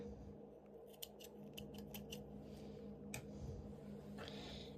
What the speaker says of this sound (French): Maintenant, venir prendre notre ciseau